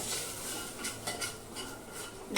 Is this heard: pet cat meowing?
no